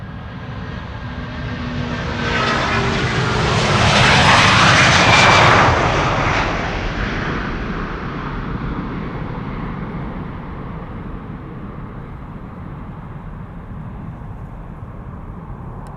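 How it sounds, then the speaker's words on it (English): A Turkish Airlines Airbus A330-300 departs Amsterdam Schiphol on a sunny day, its engine roar swelling to a loud peak around five seconds as the jet passes, then fading to a long, steady rumble. "Turkish flight 1952, A330-300 to Istanbul, 13 years old, first flight April 2012."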